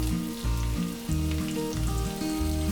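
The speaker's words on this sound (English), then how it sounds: "fry it until the onion is nice and brown" Four sliced onions frying in hot oil in a pan for a mutton korma, giving a loud, continuous close sizzle with a pulsing texture and no talk.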